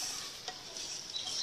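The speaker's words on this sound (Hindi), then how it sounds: "दलिया को अच्छी तरह भून लेंगे" Broken wheat roasting in ghee for sweet daliya kheer, a soft continuous hiss with a faint utensil scrape or two as it is stirred, close but quiet and brief.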